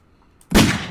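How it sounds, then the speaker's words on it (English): A sudden loud burst of gunshot sound effects cuts in midway through a podcast, hitting hard and then sustaining a dense, noisy roar to the end. "We got to get gunshots coming soon."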